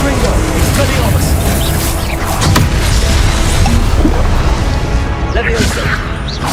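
Dense, loud combat in Hogwarts Legacy, with repeated Confringo blasting-spell explosions as booms and crashes layered over continuous game effects and music.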